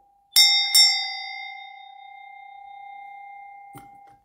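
A hand bell used in a spiritual protection ritual is rung with two sharp, close strikes, then rings on as a long, steady metallic tone that slowly fades, with a faint brief rustle near the end.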